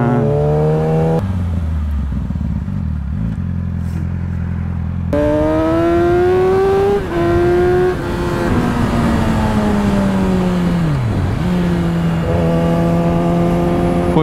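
Porsche 911 Carrera GTS engine revving loudly up close, its pitch climbing and dropping through several throttle blips and gear changes, with a sustained howl and a brief dip before it pulls again.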